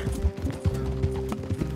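Horse hooves and a neigh in Red Dead Redemption 2: a quick, rhythmic clip-clop of hoofbeats, close and clear, with a steady tonal hum running underneath and no talking.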